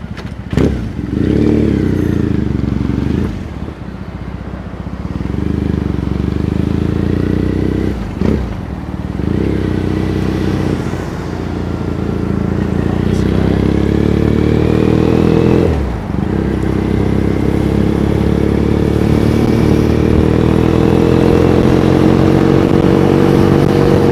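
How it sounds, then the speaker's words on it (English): A combustion-engine motorcycle rides through Tokyo streets near Shinjuku, its engine droning close and loud, rising and falling through gear changes with a few brief dips, no talk. "the excitement of a combustion engine bike"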